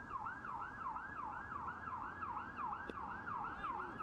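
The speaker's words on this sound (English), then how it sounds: "That's a loud siren." An emergency vehicle siren wails in steady repeating rises and falls, loud and continuous, passing on a road beside a cricket ground during a match between Northern Knights and Munster Reds, with low traffic rumble beneath.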